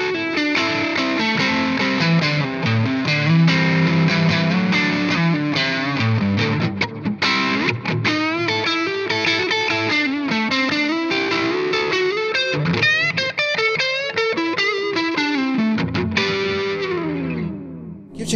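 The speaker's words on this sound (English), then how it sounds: "Nice blues distortion too, actually. You know, it's got a great quality to it. This is with the rhythm pickup." Electric guitar played through an Xotic AC/RC booster for a bluesy distortion on the rhythm pickup, with chorus effect, strummed chords and lead lines ringing loud and sustained, no talking.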